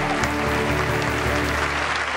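A short stretch of steady audience applause fills the room, dense and close.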